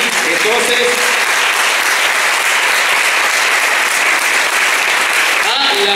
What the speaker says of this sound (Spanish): Fuerte el aplauso para recibir entonces